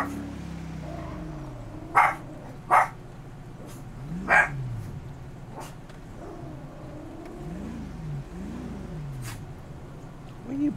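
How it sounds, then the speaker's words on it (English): A dog barking in a GTA roleplay video game: a few loud, sharp barks at irregular intervals over a steady hum of engine and vehicle noise with rising and falling revs. "Barking at Hercules"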